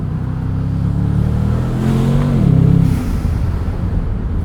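A 2023 Bentley Continental GTC Azure V8 engine drones steadily, then its pitch dips with a brief burbling exhaust note on overrun near the middle before settling back into a low hum.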